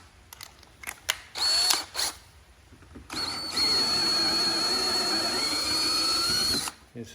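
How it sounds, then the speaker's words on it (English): Cordless drill boring into a hood pivot pin on a John Deere D100-series riding mower, a few short bursts followed by a longer steady whining run of several seconds, close up and with no talking. "I'll take a small drill bit here and just drill in here."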